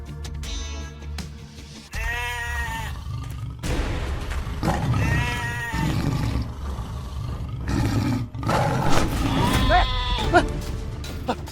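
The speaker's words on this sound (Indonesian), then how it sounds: "Kambing saya Lik dimakan sama harimau" A goat bleats repeatedly during a tiger attack in an Indonesian TV drama, with strained, wavering cries rising over growling, rough noise, and people shout and talk.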